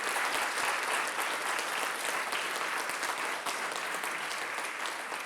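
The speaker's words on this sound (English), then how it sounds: "let us give first a round of applause to Lisa and Mark for founding this award" A full round of audience applause at a Chicago storytelling award event, dense and steady clapping throughout, with no talking.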